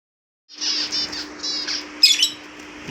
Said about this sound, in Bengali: আমি সব আমার স্প্রিঞ্চ পাখিগুলোকে একটা ছোটো খাঁচাতে আলাদা করে দিয়েছি।